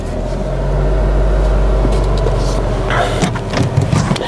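A Honda Civic engine runs with a steady low hum that shifts near the end, bringing a few sharper mechanical clatters and knocks. It is heard close by with no talking.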